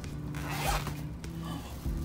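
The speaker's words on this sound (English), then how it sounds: "I broke the zipper." A clothing zipper is pulled in a couple of quick, close rasping strokes, with faint room noise and a low hum underneath.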